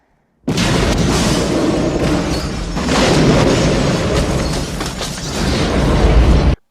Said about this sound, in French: Attention, 3, 2, 1, explosion